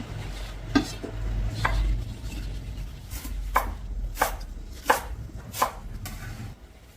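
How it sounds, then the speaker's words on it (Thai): Knife chopping green onions and coriander on a cutting board, a series of sharp separate cuts at an uneven pace, close and clear, with a low steady background hum. "หั่นท่อนต้นหอมผักชีนะคะ"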